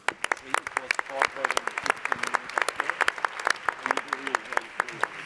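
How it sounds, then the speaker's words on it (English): A small audience at a structural heart medical session claps in scattered, distinct hand claps rather than a full roar, with voices talking over and between the claps. "So I think there's a great applause for you at this point in time."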